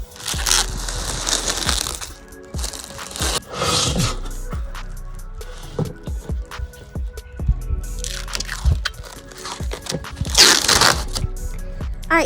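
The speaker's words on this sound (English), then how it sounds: "now it's time to peel off the plastic" Protective plastic coating is peeled and crumpled off metal Olle raised garden bed panels, producing bursts of crinkling, tearing and rustling close by, with irregular pauses and small knocks between them.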